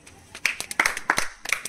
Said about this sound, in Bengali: তার জন্য একটা জোর হাততালি।